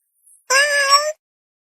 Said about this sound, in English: We can upgrade the meow too.